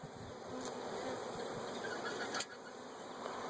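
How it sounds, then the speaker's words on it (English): Irritated honeybees swarm around an opened beehive outdoors, a dense, continuous buzz with individual bees whining past close to the microphone, and one loud bee sweeping by near the middle. "Bees are just everywhere."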